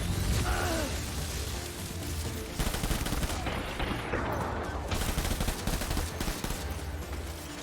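Rapid gunfire from the video game Death Stranding rattles in dense bursts throughout, with sharp cracks, a few mechanical clicks and crashes, and a brief rising whine near the start, all loud and close.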